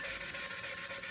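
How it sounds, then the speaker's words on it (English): Sandpaper rubs over a metal tumbler in quick, even back-and-forth strokes, a steady rhythmic scratchy hiss with about eight close, fairly soft passes and no talking. "you're going to sand it so that it is prepped"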